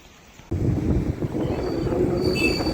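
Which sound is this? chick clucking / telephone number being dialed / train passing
train passing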